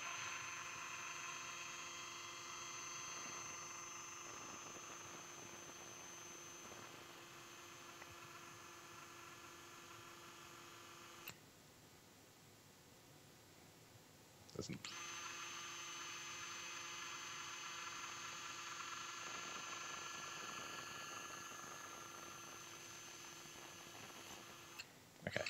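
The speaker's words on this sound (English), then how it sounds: "I'm going to go ahead and drill." A surgical drill boring through a skull, a steady high-pitched whine running for several seconds, cutting out briefly, then resuming at a constant pitch until the end.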